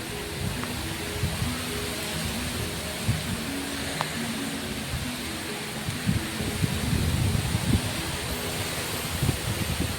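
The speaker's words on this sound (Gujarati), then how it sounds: "ફાઇનલી ગાઈસ વરસાદ ચાલુ થઈ ગયો." Heavy rain falls during a windy storm under a neem tree, a steady, dense hiss of drops with gusty rumble underneath, continuous and enveloping throughout.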